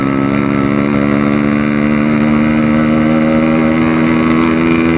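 A Yamaha RX King motorcycle fitted with a power exhaust runs loud and close, its engine holding a steady, throaty, buzzing note without pause throughout.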